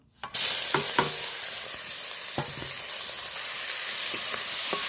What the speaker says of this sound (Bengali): বেশি ভাজবো না অল্প একটু লাল করে ভেজে নেব